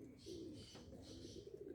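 A white gold pigeon pair with white eyes coos softly in a continuous low murmur, faint and close, with light chirps in the background.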